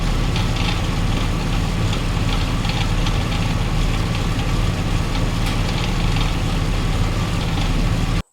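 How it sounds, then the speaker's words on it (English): A Ford Explorer engine idles on 5W-30 oil with a noisy chain tensioner, a steady close rumble carrying a rapid ticking rattle, until it cuts off abruptly at the end. "Put 530 in it, and it starts sounding like this."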